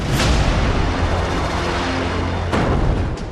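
Heavy artillery shelling on Tiger Hill during the Kargil War: a loud, continuous roaring rumble with a sharp blast near the end, and no voices.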